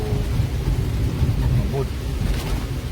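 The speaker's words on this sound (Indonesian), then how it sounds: "Santai di suasana hujan" Heavy rain falls in Palembang city, with a constant low thunderous rumble and rushing downpour filling the scene and a faint passing vehicle.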